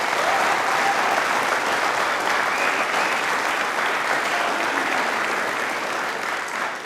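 An audience claps loudly in a TV quiz show studio for a Rajasthan broadcast, a dense, continuous burst of applause that fades only slightly toward the end.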